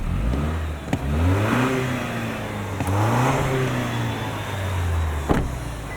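A 2025 Toyota 4Runner Trailhunter with a snorkel intake, its turbo engine rising and falling through a couple of revs, with audible boost whooshes and sharp clicks over a steady, nearby engine drone.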